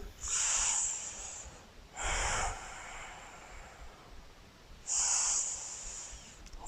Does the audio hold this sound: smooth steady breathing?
yes